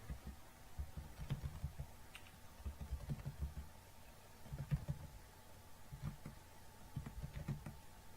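Faint computer keyboard typing, soft key clicks coming in short clustered bursts with brief pauses, heard quietly over a steady low hum with no talking.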